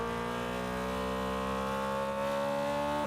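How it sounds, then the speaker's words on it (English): Endo car body driven in Fortnite, its engine a smooth, steady droning hum with a rich harmonic tone that holds level and then dips in pitch at the very end. "But the Endo sounds really, really, really cool. Go ahead and drive it."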